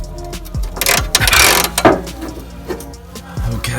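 A small hand wrench works a stubborn sway bar bolt loose, with several sharp metallic clicks and scrapes, a few strained grunting bursts and heavy rustling in between, all close by.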